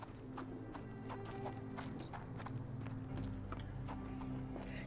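Hooves clip-clop steadily in a quiet, even rhythm from a horse near a flour mill in the Sherlock Holmes: The Awakened video game, faint and low under ambient hum.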